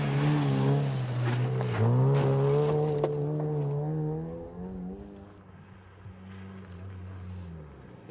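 An off-road cross-country race car on a Pikes Peak course section passes, its engine note loud and rising and falling as it works through rough ground, then fading as it moves away, with no talk over it.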